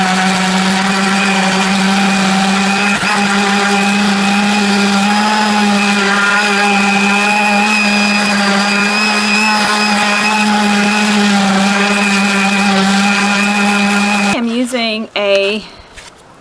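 A power sander running 60 grit sandpaper across a wooden serving tray gives a loud, steady, close motor whine for about fourteen seconds, then stops abruptly and a brief bump follows.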